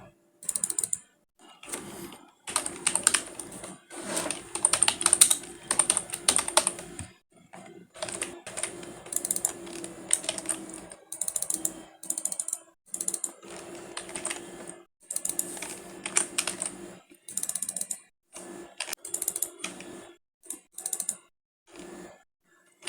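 Keys clatter on a computer keyboard while text is entered into a Webflow site, quick bursts of close, crisp clicks broken by short pauses, steady and unaccompanied throughout.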